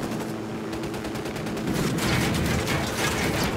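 Gunfire in Ghost Recon Wildlands breaks out as a rapid fusillade of shots, starting moderate and growing louder and denser halfway through as several weapons fire together.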